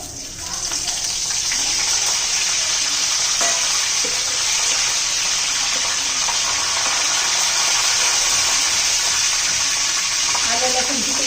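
Curry leaves dropped into hot oil already crackling with mustard seeds and cumin for a chana masala tempering, a loud sustained hiss and sizzle close up that runs steadily throughout.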